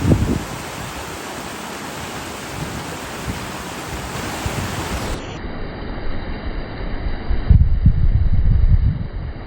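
Steady rushing water of a mountain stream in Utah fills the clip, a broad continuous wash of flowing stream noise heard up close, with no voices.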